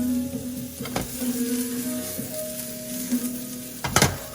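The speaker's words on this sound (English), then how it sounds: "I'm adding it in my very hot pan with just a little bit of olive oil. And I want to cook these until they're really nice and golden brown" Shiitake mushrooms sizzle steadily in a very hot pan with a little olive oil, a close, continuous frying hiss broken by a few sharp clatters of utensil or pan movement near the end.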